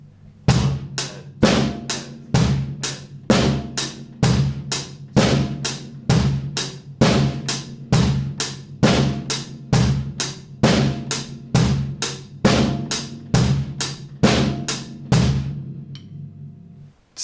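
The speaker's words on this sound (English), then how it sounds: "it actually has the bass and the snare playing together" A steady drum groove with kick and snare struck together on a regular pulse, about two hits per second, loud and dry with no voices.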